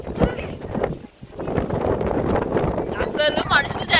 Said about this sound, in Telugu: ఆ గాలి చూడు